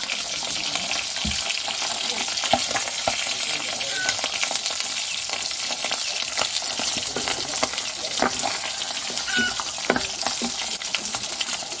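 Tuyo, dried fish, fries in hot oil outdoors on a farm, giving a continuous dense sizzle with scattered pops and spatters and light stirring noises throughout, with no talk.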